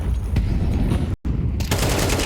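Dense, sustained automatic gunfire from a Counter-Strike 2 pro match, loud and continuous with a brief dropout partway through.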